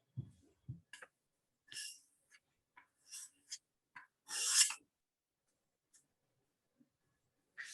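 A block plane blade being honed to a micro bevel: faint, sparse rasping strokes of steel on a sharpening surface, a few short rubs with quiet gaps between them, close by.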